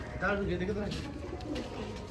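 Madrasi pigeons coo in a loft, a few soft, low, rolling calls close by, with faint background voices.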